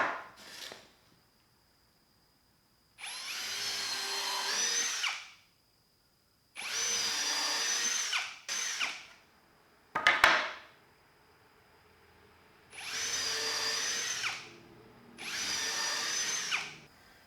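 A power drill whirs in several bursts of a few seconds each, separated by pauses and a few clunks, close and loud, drilling into wood while building a shelf.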